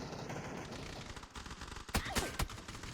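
Gunfire in a video game crackles as a dense, noisy volley, with a few sharper close shots standing out near the end, loud and continuous with no voices.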